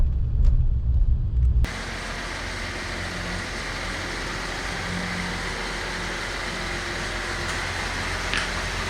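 A Ram EcoDiesel pickup truck pulling away from a stop with a hesitant take-off, its steady engine and road rumble close and continuous after a brief louder burst at the start, with no talking.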